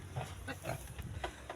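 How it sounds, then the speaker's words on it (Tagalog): On a farm, a sow nursing her piglets gives soft, rhythmic grunts in quick, evenly spaced pulses, heard close and fairly quiet. "Tingnan mo guys yung baboy."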